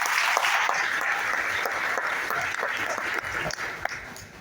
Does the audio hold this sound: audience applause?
yes